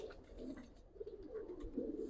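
Faint, continuous low cooing from Giribaz pigeons, muffled and distant, with no voices over it.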